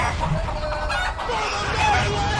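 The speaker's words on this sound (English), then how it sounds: "Chicken army" Several chickens clucking and squawking together at close range, a busy, overlapping flock chatter with an occasional higher call.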